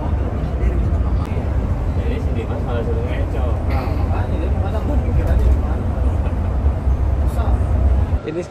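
An SSM Executive 28-seat intercity coach cruising on a highway near Cikampek gives a steady, loud low engine and road rumble with continuous tyre roar and cabin vibration throughout, under some talk.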